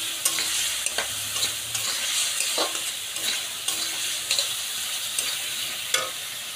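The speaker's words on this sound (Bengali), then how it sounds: "মশলাগুলো দিয়ে ভালো করে আলুটাকে কষাতে হবে, যতক্ষণ না তেল ছাড়ছে ভালোভাবে" Potatoes are stir-fried with spices in oil for a vegetarian sago khichuri, giving a steady close sizzle broken by repeated scraping strokes of the spatula against the pan.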